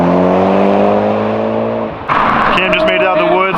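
A Mazda Miata rips along a canyon road, its engine holding a steady drone that dips as it eases off, then a rougher burst follows; a voice briefly rises over the engine near the end.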